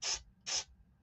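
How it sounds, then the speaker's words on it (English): Super glue activator spray is spritzed twice in quick short bursts, a close crisp hiss with a brief pause between them, while making model trees and bushes. "Use the activator spray."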